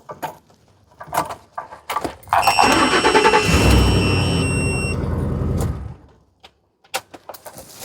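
A 2007 Ford Expedition with a failing fuel pump cranks with a few clicks, then its engine catches and runs for about three seconds with a whine and rumble before shutting off, followed by scattered clicks.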